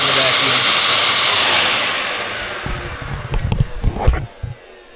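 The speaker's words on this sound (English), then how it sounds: "I'm also trying to pay attention to what I'm vacuuming." A vacuum cleaner runs with a loud, steady hissing whine that fades after a few seconds, giving way to scattered clunks and thumps near the end.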